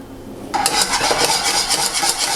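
Vanilla pudding being whisked in a pot on the stove, the whisk scraping and clicking against the metal in a fast, steady rhythm that starts after a brief quiet moment and continues close and loud.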